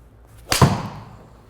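A golf ball struck cleanly with a TaylorMade P790 iron gives a single sharp, close click, then a brief whoosh that fades as the ball flies off.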